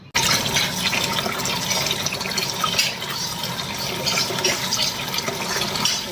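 Sorghum grain being washed with clean water in a basket, a steady close splashing and pouring of water that runs without break and without talk.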